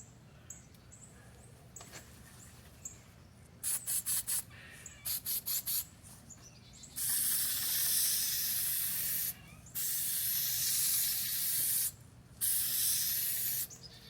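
An aerosol spray can rattles through several quick shakes, then lets out three long, steady hisses, each broken by a short pause. It is laying a coat on a hinge while a Yildiz over/under shotgun case cover is fitted.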